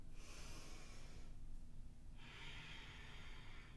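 Heavy breathing during a yoga flow in warrior 2, with a sharp snort-like exhale and quieter breaths, faint and close under a steady low hum.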